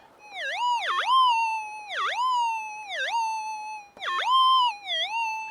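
A metal detector sweeping over a target on a hillside while prospecting for gold gives a loud, warbling electronic tone that dips and rises in repeated cycles about once a second, alone with no talking.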